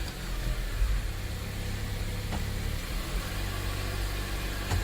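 A car engine idles steadily nearby, a low continuous rumble with a faint hiss and no one speaking.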